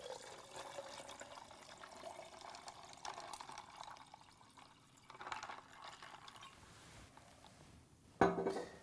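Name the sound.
pouring ginger beer into a pitcher and stirring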